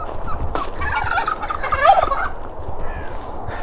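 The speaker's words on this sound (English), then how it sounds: "The turkeys have got a lot to say" Turkeys gobble loudly nearby in rapid warbling bursts, several calls overlapping against quiet outdoor background.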